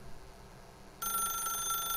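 A telephone in The Stanley Parable video game starts ringing abruptly after a quiet room hum, a steady bright electronic ring that sustains to the end.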